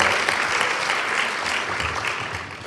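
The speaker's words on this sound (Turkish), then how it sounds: "Büyük bir alkış verelim." A room full of people applauds at a Turkish gathering in steady, dense clapping that holds evenly throughout, loud and close.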